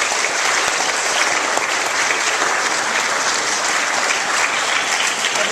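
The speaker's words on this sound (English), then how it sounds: "So please give your mom, your dad, and your teammates' parents a round of applause." A meeting audience claps steadily for parents and teammates, a dense, loud wash of applause lasting throughout with no voices over it.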